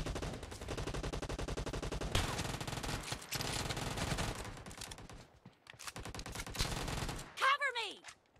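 Sniper rifle gunfire in the video game PUBG cracks out in a dense run of loud shots within busy game audio, dropping out briefly before a final burst.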